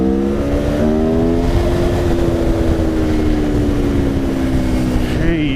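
A 2017 Aprilia Tuono motorcycle on the road, its engine note droning and gliding slowly in pitch as it pulls along, steady and close with heavy wind rush underneath.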